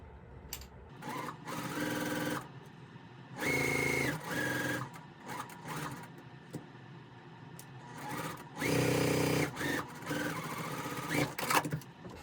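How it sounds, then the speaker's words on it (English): A sewing machine stitching a quilt block runs in several separate bursts of a few seconds each, close and clear, with quiet pauses between the runs. "Now I'm going to sew on the other side."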